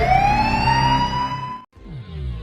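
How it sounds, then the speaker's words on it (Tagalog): An ambulance siren wails loudly and close, rising in pitch before cutting off briefly and then restarting, as the emergency vehicle arrives at a rescue scene in an Ilocano radio drama. "Dayjay, adda manen simangpet nga ambulansya."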